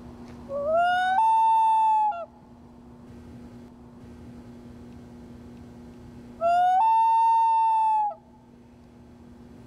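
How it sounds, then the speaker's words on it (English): A loon gives two long, rising wailing calls, each lasting about a second and a half and separated by a pause, loud and clear over a steady low hum. "Really reminds me of my Minnesota home when I recall the sound of a loon."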